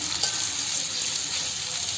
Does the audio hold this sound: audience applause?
no